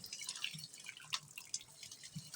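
Radish pieces are rinsed by hand in an open bowl of water for a bhujia, heard as faint, close dripping and light sloshing splashes with no talking.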